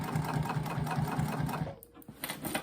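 A sewing machine runs a straight stitch through a fabric bag with a fast, even mechanical chatter close by, pauses briefly, then starts up again.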